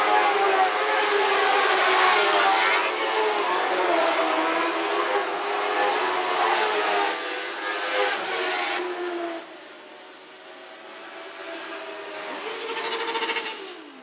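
Dwarf cars race around a dirt oval, engines wailing at high revs as the pack roars past, loud and sustained, then fading into the distance before another car's rising whine returns.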